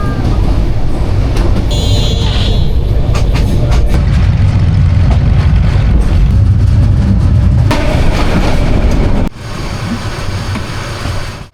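Train rolling into Chittagong railway station, a loud, continuous rumble and clatter of wheels and carriages that drops off sharply near the end.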